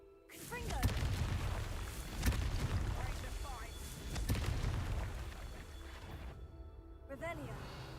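Fiery spell blasts from a witch video game, several booming bursts around one, two-and-a-half and four seconds, mixed with game effects and music while a voice talks over them.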